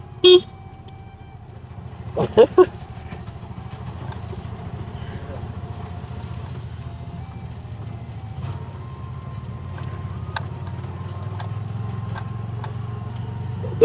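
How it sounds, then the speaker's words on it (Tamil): Auto rickshaw (three-wheeler) engine running steadily with a low continuous drone, a brief horn-like burst early on and a few faint clicks over the rumble. "நல்ல இந்த புது இன்ஜின் சவுண்ட் மாதிரி தான் கேட்கும்"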